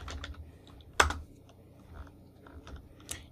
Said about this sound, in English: I'm going to stand on this and I'm going to type wall again.